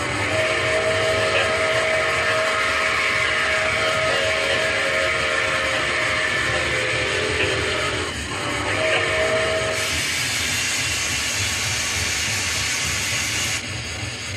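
The whistle of an NKP 2-8-4 steam locomotive on the Delaware River Railroad blows loud and steady over heavy hissing steam and rumbling machinery, brightening sharply for a few seconds near the end.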